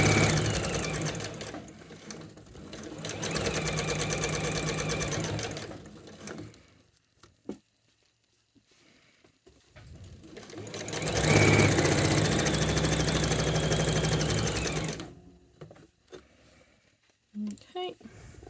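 A sewing machine stitches piping cord onto a cushion cover, two long loud runs of steady whirring separated by a quiet pause, with brief handling clicks near the end.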